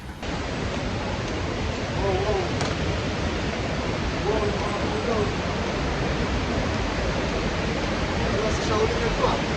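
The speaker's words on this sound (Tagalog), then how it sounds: "natutuwa ako sa part na naririnig ko lang yung agos nung tubig." Steady broadband rush of flowing water, continuous and fairly loud throughout, like a nearby stream or small waterfall with no breaks.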